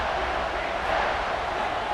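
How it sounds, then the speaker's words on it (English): Stadium crowd in College Football 26 during a Louisville versus Georgia game, a steady, dense roar of cheering and murmuring holding at an even level throughout with no breaks. "this crowd is buzzing after that last score"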